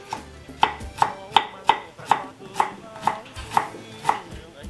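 Knife chopping ingredients on a cutting board for a Khmer stir-fry, about ten crisp, evenly spaced chops at a steady rhythm, close and clear with faint kitchen background.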